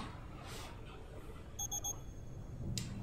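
A quiet electronic alarm beeping in Five Nights at Freddy's Help Wanted 2, a quick run of three high beeps followed by a single later beep over soft background hiss.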